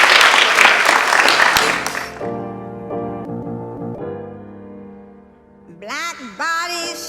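An audience claps in a hall, a dense burst of applause fading out after about two seconds, followed by sustained tonal sound and then a voice.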